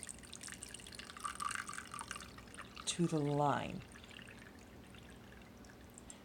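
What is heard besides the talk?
water poured into desert mist diffuser reservoir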